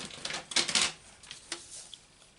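A paper trimmer slices through cardstock for a card base with a couple of quick scraping swipes, close and fairly quiet, followed by lighter clicks and rustles of paper handling.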